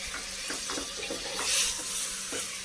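Mutton sautéed in a pot with biryani masala gives a faint, steady sizzle, broken by a few soft scraping stirs.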